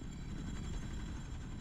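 A helicopter in the video game Blacksite Area 51 drones steadily, its dense low rotor and engine rumble filling the scene at constant loudness without any talk.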